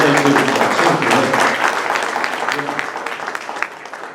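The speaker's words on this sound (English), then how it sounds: "we ought to give him a big round of applause for all the things he's done" An audience claps for a pianist, a burst of applause that is loudest at first and gradually fades, mixed with some voices.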